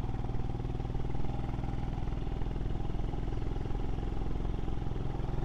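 A Royal Enfield motorcycle exhaust thumps steadily while riding along roads in rural Wales, a loud continuous low engine drone with a fast, even pulse and no voices.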